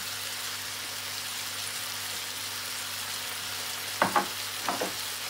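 Ginger and garlic fry in a pan with black pepper nearby, a steady soft sizzle running throughout, with a few brief clatters of stirring near the end.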